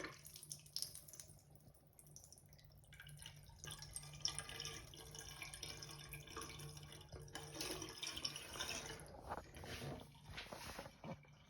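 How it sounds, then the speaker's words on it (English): A toilet with its tank cover and plastic casing removed is flushed, giving a steady rush of running water and refilling that continues throughout, with splashy surges midway and toward the end. "let's give this thing a flush with the plastic missing"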